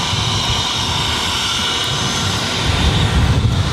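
An airplane departing Boston Logan airport roars loudly and continuously, with a broad engine rumble that swells slightly toward the end.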